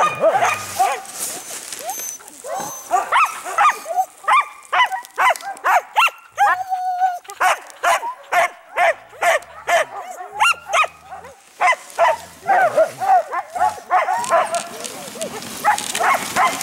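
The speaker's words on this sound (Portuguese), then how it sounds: "Tu viu que ela começou a latir?" Sled dogs at a dog-sledding outing in Sudbury bark and yip repeatedly in short, excited bursts close by, with a few whimpers mixed in and human voices in the background.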